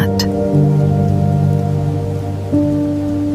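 Steady rain falls on a cottage on a quiet night, a soft, even wash of drops blended with a low, sustained musical drone and no voices.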